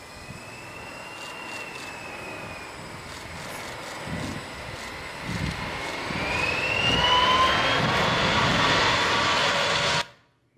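Air Portugal airliner jet engines roar during a go-around in strong wind of about 40 to 45 knots. The whine and rumble swell from a distant hum to a loud, close roar, then stop abruptly.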